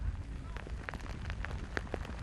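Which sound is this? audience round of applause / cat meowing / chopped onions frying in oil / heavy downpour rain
heavy downpour rain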